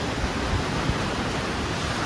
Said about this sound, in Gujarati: વરસાદ ફૂલ આવે સીધો